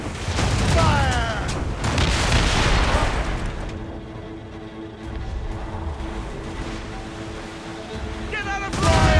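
Ship cannons firing in a naval battle in Assassin's Creed Rogue, heavy rumbling booms and continuous roaring blasts filling the scene, loud and close, with shouted voices at the start and end.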